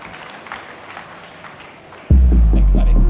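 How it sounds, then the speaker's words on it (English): An audience at a tech conference panel breaks into loud applause after a stretch of quieter talk, the clapping starting abruptly and holding steady and full to the end. "let's give a huge round of applause to Renaud"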